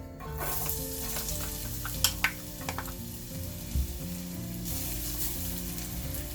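Ginger and garlic frying in hot oil for roast chicken string hopper kottu, a steady close sizzle with a few sharp clinks of stirring partway through.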